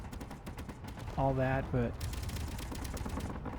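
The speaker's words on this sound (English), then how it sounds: "Because I like hearing the gunfire randomly" Rapid, continuous gunfire in the Space Engineers video game rattles throughout, with a person talking briefly over the shooting partway through.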